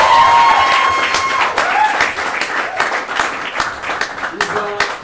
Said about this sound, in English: Round of applause for JFK, guys.